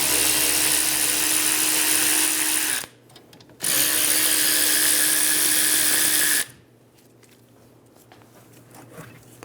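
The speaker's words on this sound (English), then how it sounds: "remove the 2 caliper bolts." Power tool spinning out the two 14mm caliper bolts on the rear brakes of a 2007-2011 Toyota Camry: two loud, steady whirring bursts of about three seconds each, separated by a short pause, then quiet.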